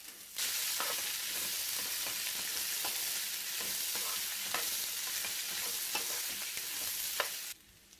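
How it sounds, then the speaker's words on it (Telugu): Okra pieces frying in a tempering of curry leaves and garlic in a South Indian kitchen, a steady loud sizzle running throughout with brief stirring clicks, then dropping off sharply near the end. "ఇప్పుడు బెండకాయ ముక్కలు వేసుకోవాలి"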